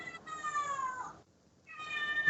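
A cat meows twice in quick succession to be let into a room, with a brief pause between the clear, drawn-out calls, close and alone.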